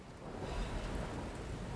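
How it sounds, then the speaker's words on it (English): Steady rain hisses without a break across a machine-overrun city in Lies of P, a dense broadband wash with a low rumble underneath, fairly quiet and unbroken by voices. "The constant rain is interesting for a city that is overrun with machines."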